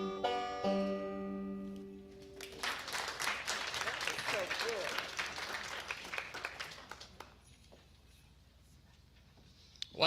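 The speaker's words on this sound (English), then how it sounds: "Let's give Eddie and Lynn a big round of applause again for that wonderful version" Audience applause at a Christmas talent showcase following a sung duet, a burst of many hands clapping that swells after a fading musical ending, then thins out into scattered claps.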